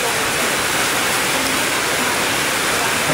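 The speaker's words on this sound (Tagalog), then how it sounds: "Grabe ang lakas ng ulan." Dense, loud hiss of heavy rain pouring down steadily in Tondo, a constant wash of noise with no breaks.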